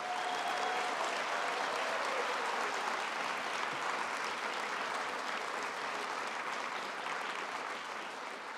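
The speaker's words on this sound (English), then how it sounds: "Let's give him one more round of applause." Sustained audience applause after an evening lecture on climate at Gonzaga, a dense even patter of many hands clapping for about nine seconds, tapering slightly at the end, with no talking.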